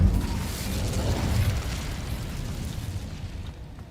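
A fire spell cast in the Hogwarts Legacy video game: a loud, low whooshing burst of flame at the start that rumbles and slowly fades over a few seconds.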